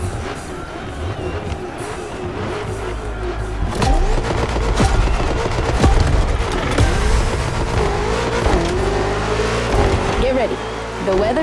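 BMW M cars drive and rev on the road, with engines rising and revving, passing and accelerating amid a busy background, while people talk over the engine noise.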